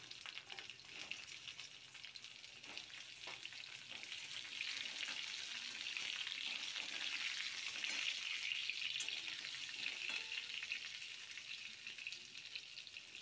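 Diced potatoes frying in hot oil with cumin seeds and bay leaf, a steady soft sizzle that swells slightly midway and holds at a moderate, even level throughout, with no voices.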